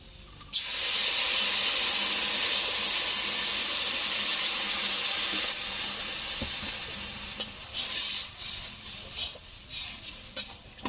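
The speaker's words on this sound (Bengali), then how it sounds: "ঝোল টকবক করে ফুটতে শুরু করে দিয়েছে।" Water poured into a pan of fried bhola fish curry starts a loud, steady sizzle and hiss that gradually eases into softer bubbling with occasional spatters, no one speaking.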